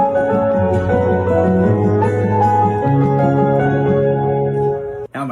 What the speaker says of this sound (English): When I mix a guitar and a piano to play it, it sounds like this.